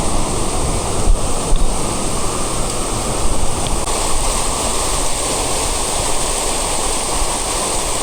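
A powerful waterfall roars down a rocky stream in hill country, a loud, unbroken broadband rush of water close by, steady throughout with faint wind buffeting.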